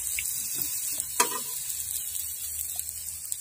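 Beef pares with beef skin is stirred in a pot over steady sizzling, with soft scraping strokes and a single sharper clink partway through; no one speaks.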